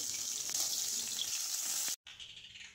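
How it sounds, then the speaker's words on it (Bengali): Rohu fish belly pieces fry in oil in a wok, a steady close bright hiss with faint crackle, breaking off briefly near the end before a quieter sizzle resumes. "রুই মাছের পেটিগুলো বেশি ভাজবো না, হালকা করে ভেজে নিতে হবে।"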